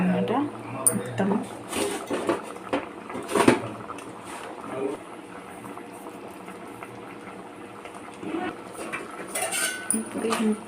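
Sesame powder is stirred into a dish in a pan while it bubbles, with spoon clinks and scrapes against the metal pan and occasional louder knocks, fairly close, alongside faint background voices.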